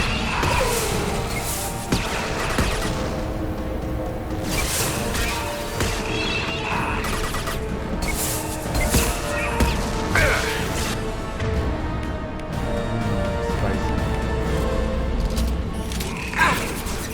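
Missiles launch and explode in Mass Effect 2 combat, a run of crashing blasts and whooshes over a dense, busy game soundscape with music and effects, loud and continuous for the whole stretch.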